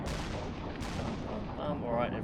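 Enemy gunfire in the submarine game UBOAT, a couple of sharp, booming shots close together followed by a rumbling tail and fainter distant reports.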